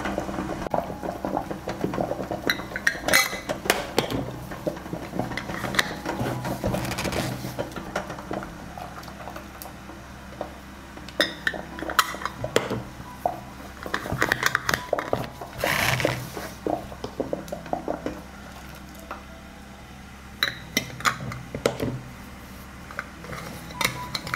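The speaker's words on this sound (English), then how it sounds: "I close the jars with sterilized lids in boiling water for 10 minutes." Sterilized-lidded glass jars knock and clink irregularly in a pot of boiling water, sharp little taps scattered over a steady bubbling hiss, with no voices.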